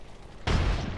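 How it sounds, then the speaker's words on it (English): A grenade explodes in the video game Apex Legends, a sudden loud, close boom that hits halfway through and rumbles on with a heavy low tail. "Grenade."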